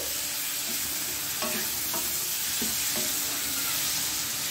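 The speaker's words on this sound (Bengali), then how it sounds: "পেঁয়াজটা খুব সুন্দর ভাজা হয়ে গেছে।" Onions and steamed starfruit fry in a pan for a sour prawn dish with a constant close sizzle. A few scattered spatula taps and scrapes sound over it, and no one speaks.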